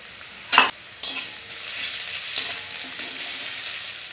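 Browned onions fry with ginger paste in a pan, a steady sizzle with a few sharp clinks and scrapes of a spatula as they are stirred.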